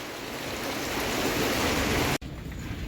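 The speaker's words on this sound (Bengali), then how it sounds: "একই টাইম প্রচুর বৃষ্টি, প্রচুর বাতাস, বিদ্যুৎ" Heavy rain pouring in a night storm with strong wind, a loud dense roar of water that cuts off abruptly near the end, then continues more softly.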